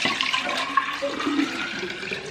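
Four cups of water are poured into a jar, a steady, close, splashing gush of liquid that runs continuously, with no talk over it.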